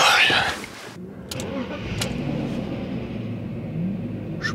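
BMW car engine cranking and catching after a battery replacement, a brief starter whirr and then a steady low idle rumble continuing close by with small clicks.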